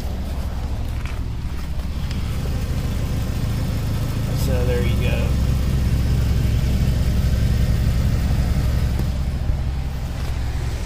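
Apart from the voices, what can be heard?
Audi A4 1.8T engine idling, exhaust running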